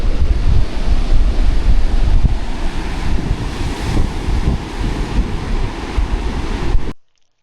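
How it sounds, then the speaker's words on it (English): Powerful Indian Ocean surf rolls in along the wild Margaret River coastline in Australia, a loud, continuous low roar with heavy wind rumbling across the microphone until it cuts out abruptly near the end. "The coastline here is wild and dramatic, with powerful waves rolling in straight from the Indian Oceans."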